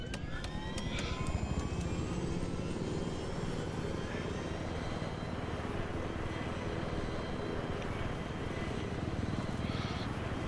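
A helicopter in the video game Battlefield 3 roars with a loud, constant rotor and engine drone, a high whine rising over it as it flies.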